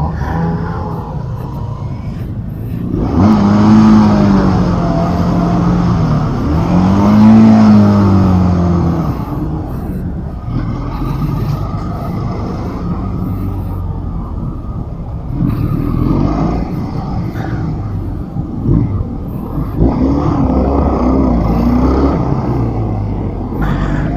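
A 2022 Benelli 502c cruiser motorcycle engine runs during a test drive, rising in two clear revving swells before settling into a steady, fairly loud drone with smaller throttle changes.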